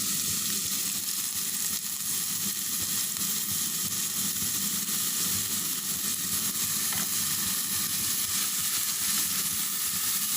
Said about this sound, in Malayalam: എണ്ണ ഒന്ന് ചൂടായി വരുമ്പോൾ അതിലേക്ക് നേരത്തെ നമ്മൾ ഗ്രേറ്റ് ചെയ്ത് വെച്ച ഈ ക്യാരറ്റ് പകുതി എടുത്ത് അതിലേക്ക് ഇടുക.